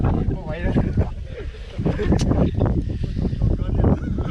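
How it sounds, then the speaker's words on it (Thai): Strong wind blows over a clear lake while out spearfishing, buffeting the microphone in a continuous loud rumble with gusty surges, and a voice talks faintly underneath. "แต่วันนี้ลมแรงมาก"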